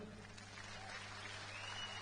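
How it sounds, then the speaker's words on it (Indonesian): A live audience claps together at an Indonesian religious talk, a steady even wash of applause held through the moment with no pauses. "Kasih tepuk tangan dulu."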